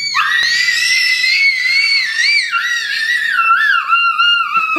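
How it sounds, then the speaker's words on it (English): A person screams on request, one long shrill sustained scream that wavers and slides downward in pitch toward the end, loud and close, with no talking. "Scream, but no flap."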